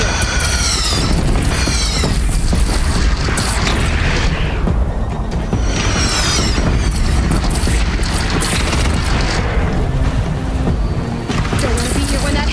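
Cannon fire and explosions rumble almost without pause in the Horizon Zero Dawn finale battle, heavy booms and blasts layered over a dense roaring din, loud throughout.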